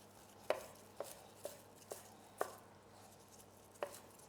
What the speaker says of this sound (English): Let's give this a rough chop.